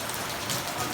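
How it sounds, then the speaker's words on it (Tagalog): Heavy rain pours down steadily at night in Japan, a dense, even hiss of drops hitting surfaces with no gaps, loud and close, and no voices. "Grabe, lakas ng ulan."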